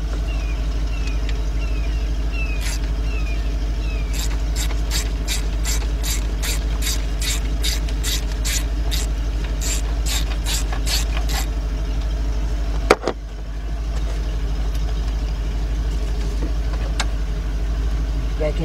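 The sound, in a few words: ratchet wrench with long extension removing engine bolts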